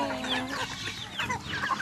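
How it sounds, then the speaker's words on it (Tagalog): Several native chickens clucking close by in the Ilocos countryside, overlapping cackles and short calls in an uneven, busy chatter. "Yung mga manok. Hmm, dami."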